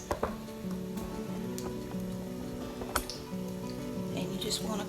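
Teaspoons of apple fritter batter bubble in hot frying oil, a low steady sizzle with occasional ticks and clinks from a utensil, faint beneath a musical hum, with someone talking.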